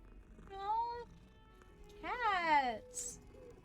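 A cat in the video game Hogwarts Legacy gives two short meows, the second longer and falling in pitch, heard near and alone over a quiet background.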